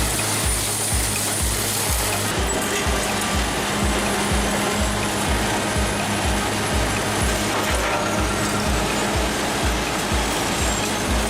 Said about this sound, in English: The giant machine slowly cuts each piece of wood into small pieces. The sound is smooth but powerful, resounding evenly.